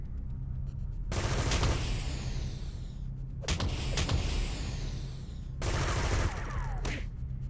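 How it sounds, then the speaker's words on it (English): Bursts of machine-gun fire from a gunner in the video game City of Heroes, three long rattling volleys at about one, three and a half and six seconds over a steady low background hum, with no talk. "It's just a machine gunner."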